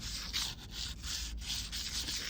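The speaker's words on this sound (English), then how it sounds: "And I'm wet sanding, right?" Rhythmic wet sanding of the finish on a maple guitar fretboard, a soft back-and-forth rubbing scrape repeated in short strokes, close up and steady.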